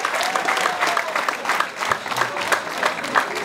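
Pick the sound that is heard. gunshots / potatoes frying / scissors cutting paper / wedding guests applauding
wedding guests applauding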